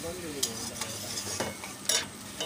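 Masala for snakehead (shol) fish cooking in a pan with turmeric-chilli water and salt, a soft sizzle broken by several sharp spatula scrapes and stirring strokes, fairly close, without speech.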